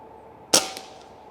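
A single sharp crack from a Crosman 3622 PCP air rifle fires once, close and abrupt, with a short decaying tail in an otherwise quiet setting.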